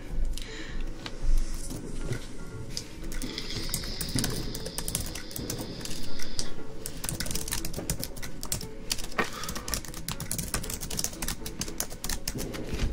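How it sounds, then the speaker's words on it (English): Fast, irregular keystrokes on a computer keyboard during a late-night New Year's Eve stream, clicking close and continuous over a faint room hum, with party noise from downstairs and distant fireworks in the background. "Sorry for the typing if it's loud"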